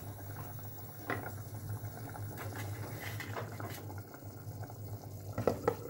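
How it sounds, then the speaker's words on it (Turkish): A pot of meatless chickpea stew keeps bubbling on the stove after the heat is turned off, a steady low simmer with soft pops and occasional light clinks, close and fairly quiet, with no voices. "Gördüğünüz gibi 5 dakikada bekliyor ama hala kaynamaya devam ediyor."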